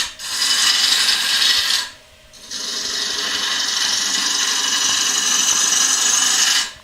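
A gouge cuts into a wooden bowl blank on a lathe during woodturning, clearing wood for a tenon. It gives a loud, steady rasping hiss with a brief break just before the two-second mark, then continues evenly to the end.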